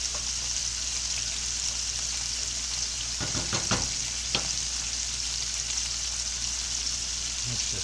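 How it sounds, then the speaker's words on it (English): Beef chunks for beef bourguignon sear in a pan with a steady, dense hiss and sizzle, close and even throughout, broken midway by a few brief knocks and clatters. "We just want to sear these on all sides"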